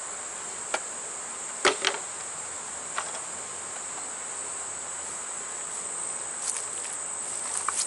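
Bees buzz around a feeder outdoors on a sunny day, a steady high insect drone running throughout, with a few brief close knocks and rustles early on.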